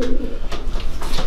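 Young racing pigeons coo in soft throaty bursts, a few overlapping calls close by against a faint background hum.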